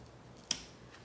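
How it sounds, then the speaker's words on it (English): Scissors snip once through a lemon lime Maranta houseplant stem, a single sharp, close click that is faint against quiet room tone. "I'm going to take my scissors"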